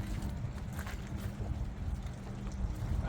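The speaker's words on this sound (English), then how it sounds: "let's kick it over and see if we can get it to pick some fuel up." A John Deere LX178 lawn tractor engine cranks over steadily, a continuous low rumbling churn that holds at a near, even level for the whole stretch without catching and running.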